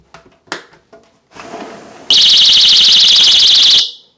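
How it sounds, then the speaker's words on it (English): A window alarm triggered when the contact is hit lets out a loud, piercing electronic warble for under two seconds after a few soft knocks and handling sounds, then cuts off. "that pretty much will alarm"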